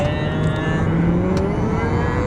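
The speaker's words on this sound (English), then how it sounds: "And traffic!" A car drives along a highway into Primm, Nevada, its engine and road noise forming a steady, close drone from inside the vehicle with no talk.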